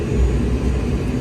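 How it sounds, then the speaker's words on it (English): Boeing 767 full-motion simulator engines at takeoff power, a loud, steady, dense jet roar filling the moment with no break. "we hit the takeoff go around button. That'll set takeoff power."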